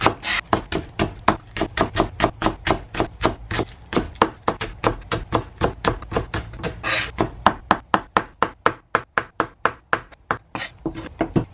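A sharp knife chops garlic chives for dumplings on a cutting board, giving a steady run of crisp, evenly spaced close taps with no talking.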